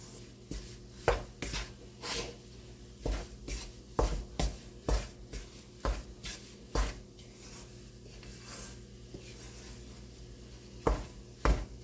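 Wheat flour roasting in ghee for sukhdi, stirred steadily with a spoon or spatula: repeated close scraping strokes in an uneven rhythm over a soft sizzle, with no voices.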